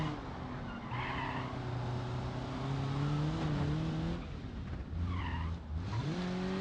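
A small car in BeamNG.drive revs hard with its engine pitch climbing and dropping through gear changes, tires skidding and squealing, loud and close throughout.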